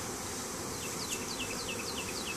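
A honey bee swarm buzzes in a dense, steady drone close by, with a series of faint high chirps running through it and no voices.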